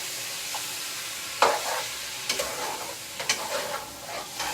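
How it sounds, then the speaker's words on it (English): Meat stirred into a pot of curry on the stove, a few sharp spoon scrapes and wet clattering sloshes over a soft sizzle, close by, no voices. "So, you stir it up."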